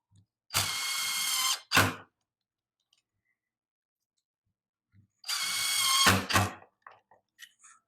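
A power drill whines in two short bursts, each a sustained run followed by a brief blip, backing screws out of a wooden bowl blank in a quiet workshop.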